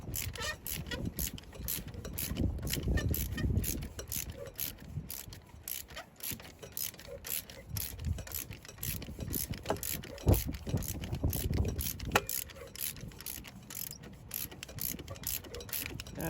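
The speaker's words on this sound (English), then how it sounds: "So now it's going to tighten up the belts." A ratchet clicks steadily in quick runs while the belts on a white GMC cab-over truck engine are tightened, close and mechanical, with some low rumble behind it.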